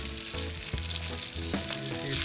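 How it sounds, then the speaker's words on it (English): Snapper fish searing in a pan with butter: a steady, dense sizzle with a few soft clinks of a utensil, close and moderately loud, no speech. "I just want to give it that sear on the other side."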